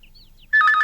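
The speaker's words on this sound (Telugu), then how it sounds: "ఫోన్ రింగ్ అవుతూనే ఉంది" A telephone starts ringing after a brief quiet moment, giving a loud, close, warbling electronic trill with no voices over it.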